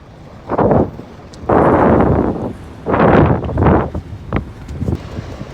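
Strong wind buffets a rooftop beside an HVAC unit, heard as loud gusty rumbles and microphone buffeting that come in several bursts of a second or so, alone and close.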